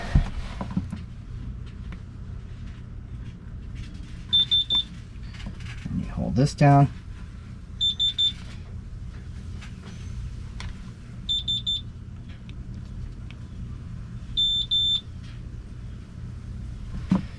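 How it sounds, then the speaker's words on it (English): Several short, high electronic beeps in repeated pairs from a Fell Marine man-overboard transmitter being set up on a Carver yacht, close by, with a brief loud clatter partway through and a quick spoken remark. "Hold it down until it beeps."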